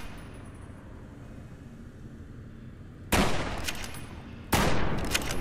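Gunfire aimed at Nightstalkers in the video game Fallout: New Vegas: two loud, close shots with long ringing decays, breaking a quiet low ambient rumble.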